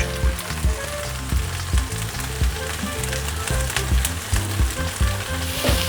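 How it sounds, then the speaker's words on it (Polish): Rhubarb fries with vanilla sugar in a pan, giving a continuous loud sizzle broken by regular clicks and scrapes of stirring, with no talking. "smażyliśmy ten rabarbar 2 minutki"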